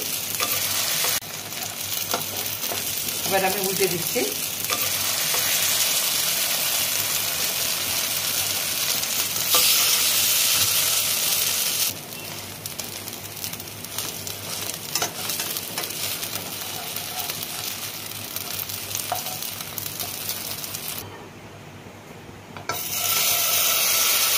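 Steady sizzling of pancake batter frying in a pan, with scraping and stirring noises, a brief quieter gap near the end, no voices.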